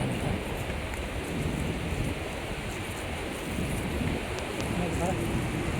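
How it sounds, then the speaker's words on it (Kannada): Sea waves wash onto a drive-in beach in a steady, broadband roar blended with wind, continuous and fairly loud throughout with no clear breaks between surges. "ನೋಡಿ ಬ್ಯಾಕ್ಗ್ರೌಂಡಲ್ಲಿ ಸಮುದ್ರ ನೋಡಿ, ಸಮುದ್ರ ತೆರೆ ಹತ್ತಿರ ಹೋಗ್ತಾ ಇದೆ."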